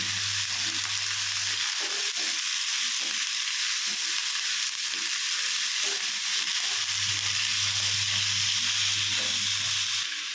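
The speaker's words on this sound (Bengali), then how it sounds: "লাউ কুচি লাউয়ের খোসা কুচি এর মধ্যে ঢেলে দিলাম এবার আস্তে আস্তে এটাকে নাড়তে থাকবো" Chopped bottle gourd peel fries in a pan while being stirred slowly, a soft continuous sizzle with a faint low hum, gentle scrapes and no talking.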